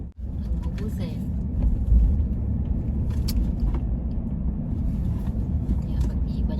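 A car being driven home to its garage in Edmonton, Alberta, gives a steady low engine rumble and road noise throughout, with a brief dip near the start while people talk inside.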